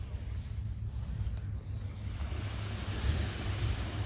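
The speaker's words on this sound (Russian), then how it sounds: "Погода такая сегодня спокойная, безветренная, поэтому легкие-легкие волны." Gentle, small sea waves lapping a black sand beach on a calm, windless, sunny day, a steady low wash with light wind rumble, continuous and fairly soft throughout.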